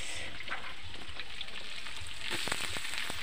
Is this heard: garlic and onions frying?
yes